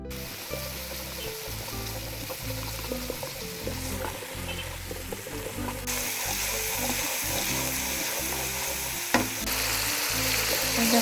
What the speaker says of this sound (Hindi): थोड़ा सा पानी ऐड कर दें।